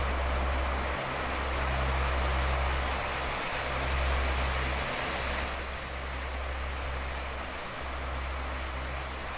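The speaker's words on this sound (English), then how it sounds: "Let's watch this aircraft land." A simulated airliner landing in the Prepar3D flight simulator, a Norwegian shuttle 737 arriving from Trondheim, gives a steady low engine roar with a hiss. It drones on for the whole stretch with no talk.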